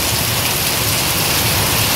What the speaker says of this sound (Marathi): पाऊस खूपच जोराचा पडतोय